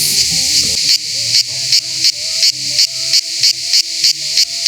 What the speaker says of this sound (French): la cigale vous dit bonjour